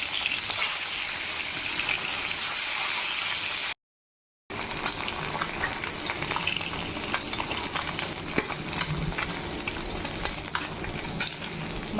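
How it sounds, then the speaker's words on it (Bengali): Pieces of rohu fish, coated in salt and turmeric, fry in hot oil in a wok, giving a loud, steady crackling sizzle that continues throughout apart from one short silent break. "সেই মাছটা এবার আমি ভেজে নেব।"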